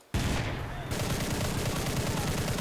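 A bomber's gunner strafing ground targets in War Thunder, a sustained rapid rattle of machine-gun fire that carries on steadily and loudly without pause.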